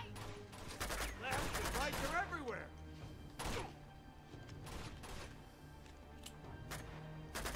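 Enemy gunfire in the video game Uncharted 2, bursts of rapid shots and impacts fading in and out at moderate loudness, with a voice exclaiming over the shooting.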